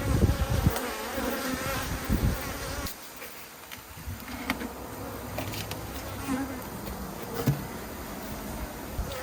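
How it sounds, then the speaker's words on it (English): Honey bees buzz steadily from an open five-frame nuc hive, a dense continuous drone with faint rustling and shifting intensity throughout, no talk over it. "So there are 5 frames of bees."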